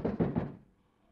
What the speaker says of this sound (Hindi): इस आधी रात में तुम्हारी सखी किवाड़ खटखटाकर तुम्हें बुला रही है